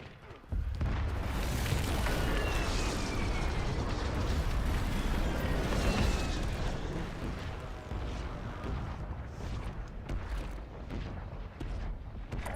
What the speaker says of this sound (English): Enemy airstrike in the area